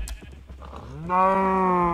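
Sheep bleating in Minecraft, a single drawn-out, wavering bleat that rises clearly and loudly after a second of low background rumble and faint clicks.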